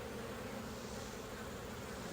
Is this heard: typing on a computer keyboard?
no